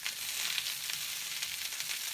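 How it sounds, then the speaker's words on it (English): Vegetables sizzle and crackle in a hot cast iron skillet, a dense steady hiss heard close up with no talking. "I wanted that nice sizzle to get a char on it."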